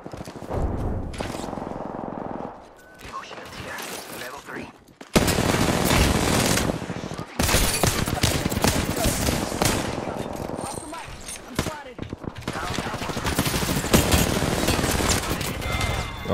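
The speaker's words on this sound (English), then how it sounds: "I just heard shots" Gunfire from the shooter game Apex Legends, dense bursts of automatic fire and scattered shots running almost continuously and loud, with a brief lull early on, under faint voices.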